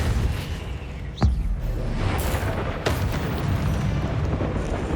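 A Depulso spell cast in Hogwarts Legacy, a sudden whooshing blast with a booming thump, followed by a rumbling magical wash and a later second burst.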